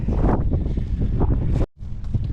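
Strong gusts of wind buffet the microphone in a loud, continuous roar, broken by a sudden brief drop before the buffeting resumes.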